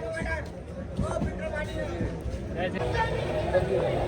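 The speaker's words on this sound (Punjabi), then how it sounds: "ਉਤਰਨ ਵਾਲਿਆਂ ਦੀ ਵੀ ਜਿਹੜੀ ਭੀੜ ਲੱਗ ਜਾਂਦੀ ਆ" A crowd of train passengers murmuring and talking at busy Bareilly Junction station, with shuffling movement and scattered voices over a constant hum.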